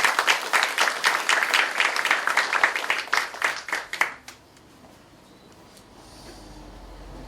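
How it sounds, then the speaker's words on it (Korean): An audience claps at the opening ceremony of a history and culture research institute. The applause is lively and fairly close for about four seconds, then it cuts off, leaving quiet room tone. "큰 박수를 보시겠습니다."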